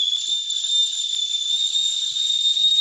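A teapot whistles steadily as its water comes to a boil, giving a loud, sustained, unbroken high tone with a second pitch above it that holds for the whole stretch, with no voices.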